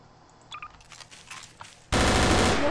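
FN P90 firing in the Garry's Mod video game: a few faint clicks and taps, then a sudden loud, sustained burst of rapid automatic gunfire to the end.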